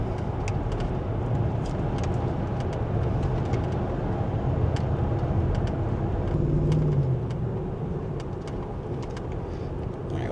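BMW E53 X5 4.8is with its V8 engine running steadily, a continuous low rumble and drone throughout with a slight swell in the middle, heard from inside or near the vehicle with no talking.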